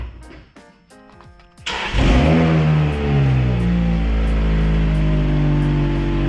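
Supercharged Lotus Exige firing up instantly after a brief whirring prelude, then settling into a loud, close, throaty idle and revving with a rising mechanical whine.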